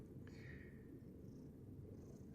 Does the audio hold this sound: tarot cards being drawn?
no